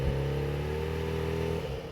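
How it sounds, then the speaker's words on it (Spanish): A motorcycle engine is warmed up at idle and given a touch of throttle, giving a steady close mechanical drone with a slight rise in pitch and no speech. "lo que voy a hacer es simplemente dejarla a ralentí, darle un poco de puño, así,"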